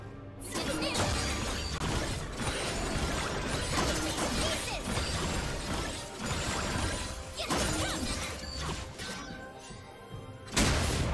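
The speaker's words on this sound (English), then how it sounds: "Team's turret has been destroyed." Dense crashing and shattering of a turret being destroyed in League of Legends, a loud, continuous clash of impacts and mechanical debris with a heavy burst near the end.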